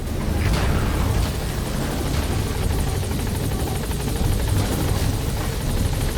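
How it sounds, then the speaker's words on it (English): A helicopter touches down in the Metal Gear Solid V video game, its rotor thudding loud and continuous with a broad roaring whine, close and steady throughout. "the chopper's touching down"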